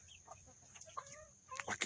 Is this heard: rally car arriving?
no